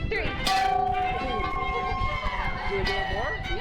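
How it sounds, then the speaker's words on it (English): A wedding bell pulled and rung together by a newly married couple, with bright ringing tones and a sharp clang near the start and again toward the end, set against a busy crowd with voices talking throughout. "Do you want to ring the bell?"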